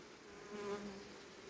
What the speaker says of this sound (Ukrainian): Відкриваємо плівку і бджоли влізають потихоньки донизу.